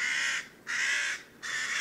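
A hooded crow gives three harsh, drawn-out caws in steady succession, clear and moderately loud with no other sounds.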